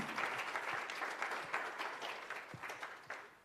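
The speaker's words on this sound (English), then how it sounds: "a round of applause, please" Audience applause at a change-makers gathering, a faint, distant wash of many hands clapping that continues steadily with slight surges and no talk over it.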